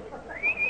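A brief whistled imitation of a nightingale's call rises and then holds a bright, steady high note, heard close and without speech.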